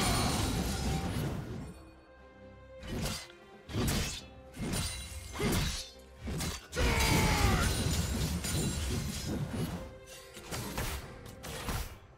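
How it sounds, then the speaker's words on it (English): A turret crumbles in League of Legends during a Garen versus Talon mid-lane match. A run of crashing, shattering impacts with mechanical clanks and grinding debris, close and forceful, ends with a longer rumbling collapse. "His turret has been destroyed."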